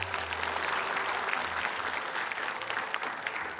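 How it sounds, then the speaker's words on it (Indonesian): An audience applauds performers at a televised Quran memorization competition, a dense, continuous wash of clapping hands that stays loud and even throughout, with a faint voice beneath. "Boleh tepuk tangan buat mereka."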